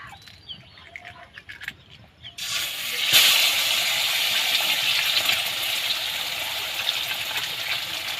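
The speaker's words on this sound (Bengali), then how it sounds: "তো এই তেলের মধ্যে আমি একটা ডিম ফাটিয়ে দিয়ে দিচ্ছি।" An egg cracked into a wok of hot oil left from frying eggplant bursts into loud, steady sizzling and crackling after a few quiet kitchen clinks, continuing without pause to the end.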